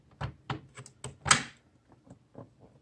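A crank window opened beside a hummingbird feeder, a string of close wooden knocks, thumps and a rattling clunk from the frame and hardware, loud at first then fainter, uneven in rhythm, with no talking.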